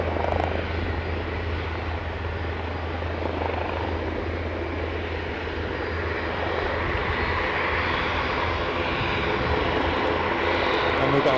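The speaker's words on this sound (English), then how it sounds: "Loganair off to Sunborough on its way out." A Loganair aircraft departs Aberdeen airport with a loud, steady engine roar that continues through the whole stretch and swells slightly toward the end, with no talk over it.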